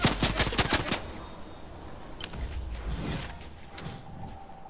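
Video game gunfire rings out in a rapid burst of sharp automatic shots, then after a short lull comes a second scattered volley of cracks and mechanical clatter, moderately loud.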